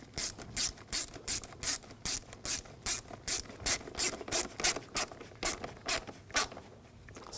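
Hose clamp being tightened down on a 2006-2009 Audi S4 4.2L V8, a close, dry ratcheting clicks in quick regular bursts, about a dozen rapid pawl strokes with no talking.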